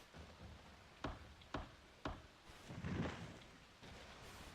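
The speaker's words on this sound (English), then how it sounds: "The rain's really starting to pick up." Rain falls steadily in the Ys: Memories of Celceta video game, a soft continuous hiss with a few sharp splashy hits and a swelling gust, with no voices over it.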